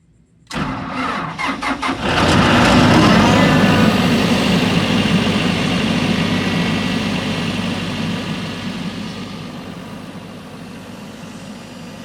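An Atlas Copco 375 CFM diesel tow-behind air compressor cranks briefly with a rapid chugging starter, then fires and roars up loudly before settling into a steady, slightly quieter diesel idle.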